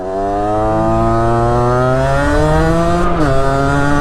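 A Derbi moped engine screams at full throttle, its high buzzing whine climbing steadily in pitch, then dipping briefly before revving on again, loud and continuous from start to finish.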